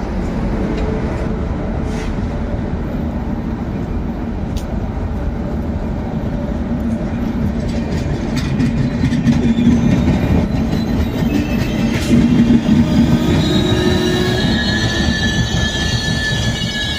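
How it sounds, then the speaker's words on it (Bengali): Mumbai Mail train pulling out of Parasnath station in Jharkhand, a continuous loud rumble of rolling carriages with wheel squeal and clacking over rails, heard close from the platform with no talk. "এই হচ্ছে মুম্বাই মেল, এবার এখান থেকে ছেড়ে বেরিয়ে যাবে।"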